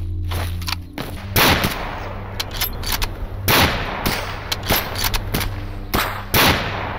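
Gunfire in the video game Stalker, aimed at a ghillie-suited enemy: a string of loud, sharp shots fired one at a time and in short bursts, each with a ringing tail, over a steady low game ambience.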